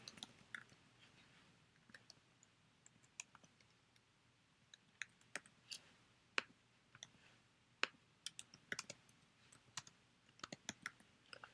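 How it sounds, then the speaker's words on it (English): Keys clack on a computer keyboard as an email address and short message are typed, quick irregular taps close by in a quiet room with no talking. "you just type your email in, type from me or whatever you want, and then type a message"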